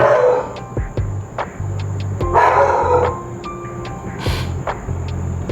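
Dogs barking in a home, several sharp separate barks and yips spread over a few seconds, fairly close, with a steady background hum between them.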